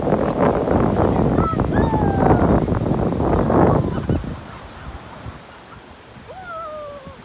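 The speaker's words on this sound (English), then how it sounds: "Xiao, run through the birds to make them all go crazy." A flock of geese being fed honks and calls repeatedly amid a loud, busy wash of noise, which drops away midway, leaving a few nearby honks against quieter surroundings.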